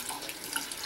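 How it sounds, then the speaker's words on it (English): Warm tap water runs steadily into a sink to rinse a makeup brush, a continuous close hiss with no talking. "all I do is I run water"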